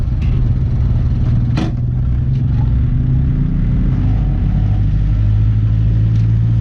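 A 1997 Land Rover Defender with a 300 TDI diesel engine and manual transmission revs in a steady, close, rumbling drone that swells slightly, with no voices.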